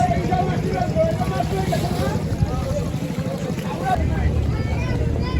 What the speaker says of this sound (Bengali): এই যে আরেকটা নৌকা আসতেছে।